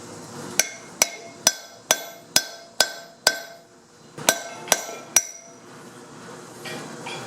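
A run of close hammer taps on a brass drift seating a trailer wheel bearing race, evenly spaced and ringing, pauses briefly, then three more strikes follow as it bottoms out, before quiet room noise.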